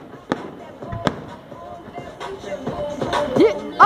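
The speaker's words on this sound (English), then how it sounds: "Fireworks." Fireworks bursting outdoors at a celebration, sharp cracks and booms popping irregularly over a few seconds amid crowd noise and voices.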